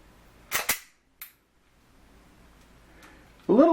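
Sharp metallic clicks from an FN FNS 9 pistol's safe action trigger resetting, two close together and a faint third after a pause, fairly near and crisp against a quiet background, with a louder burst of sound at the very end.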